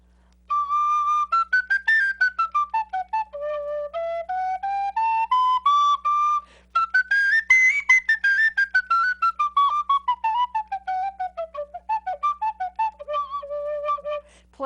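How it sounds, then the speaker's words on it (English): A conical penny whistle with a two-octave range plays a solo melody of clear, tongued notes in short phrases that rise and fall, close and unaccompanied by talk. "So this is going to play more like a regular penny whistle plays."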